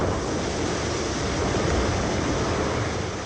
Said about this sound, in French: Il y a entre 30 et 35 nœuds. Et il y a des vagues, ça tape dans tous les sens.